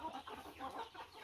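A pet backyard chicken clucks in short, repeated bursts close by, the soft calls coming one after another over about a second with no voices.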